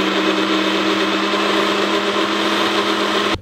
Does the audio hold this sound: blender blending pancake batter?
yes